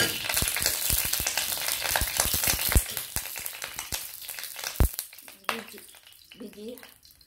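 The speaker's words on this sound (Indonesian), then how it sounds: "Kuali dah panas, sekarang saya akan masukkan minyak." Hot oil sizzles and crackles in a heated wok as a Malaysian mackerel fish curry is started, a steady loud frying hiss with sharp pops and stirring clatter that thins out toward the end.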